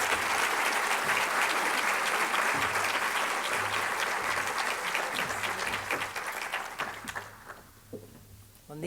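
An auditorium audience at a university forum applauds to welcome a speaker, with dense, sustained clapping that thins and fades near the end.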